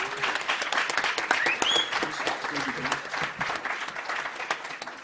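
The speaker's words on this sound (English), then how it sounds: "Give them a round of applause again, please." A studio audience gives a discussion panel a warm round of applause, a dense wash of many hands clapping with a few raised voices and cheers mixed in, easing off toward the end.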